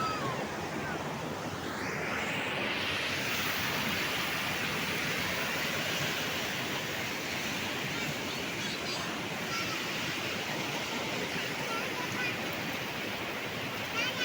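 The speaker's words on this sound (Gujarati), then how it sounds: "માલણ નદી બે કાંઠે ઘોડાપુર આવ્યું છે" The flooded Malan river at Mota Khutavda runs bank to bank with a steady, loud, broadband roar of rushing water that holds unbroken throughout.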